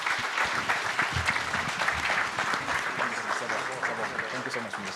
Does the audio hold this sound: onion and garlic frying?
no